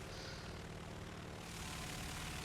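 The piston engines of a B3C bomber in War Thunder drone steadily and loudly at reduced throttle, a constant propeller roar with no other sounds.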